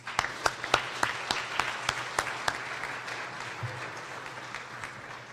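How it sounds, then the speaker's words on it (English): At a hospital medical residency graduation ceremony, the audience claps for the program directors: a handful of distinct, crisp claps at first, filling into a moderate round of applause that gradually softens. "A round of applause for our PDs."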